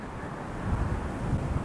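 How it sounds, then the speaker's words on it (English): Steady low rumbling wind buffets the microphone throughout, a dense muffled roar with no other clear sounds. "I know it's really windy, but hopefully my voice is coming through."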